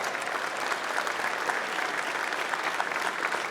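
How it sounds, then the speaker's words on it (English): A crowd at a youth center ribbon-cutting ceremony gives a steady, full round of applause, dense clapping holding at even loudness throughout. "Give that a round of applause."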